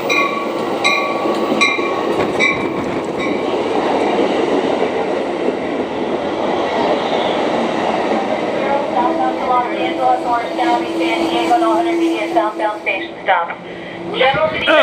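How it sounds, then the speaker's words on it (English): An eastbound double-stack freight train rolls past close by, a loud continuous rumble and rattle of wagons, with brief wheel squeals and clatter rising near the end. "here comes our first freight of the day, an eastbound stacker"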